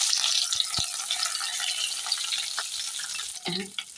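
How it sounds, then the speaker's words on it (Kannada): Mustard seeds, urad dal and dried chillies tempering in hot oil for vangibath, a close, steady crackling sizzle with scattered pops and a brief clatter near the end. "ಈಗ ಒಗ್ಗರಣೆ ಸಿಡಿತಾ ಉಂಟು."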